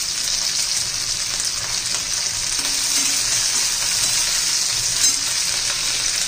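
Potatoes fry in a pan with chilli, garlic and capsicum for a mixed cabbage vegetable dish, giving a steady, even, close-up sizzle that stays constant throughout with no talking.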